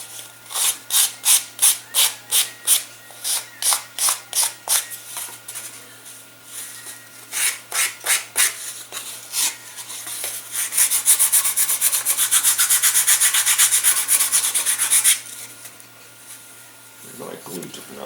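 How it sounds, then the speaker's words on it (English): Balsa wing leading edge of a Stevens Aero SCImOn 30 elastic-launched glider being rounded off with sandpaper, close rhythmic rubbing strokes that blur into a continuous scrape, then stop. "just rounding off a wing leading edge and whatnot"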